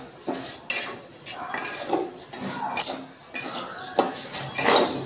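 Mung dal dry-roasting in a hot, oil-free kadai, with repeated metal scrapes and clinks of a spoon stirring the grains close up over a faint dry sizzle.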